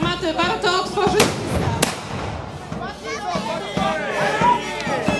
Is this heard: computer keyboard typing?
no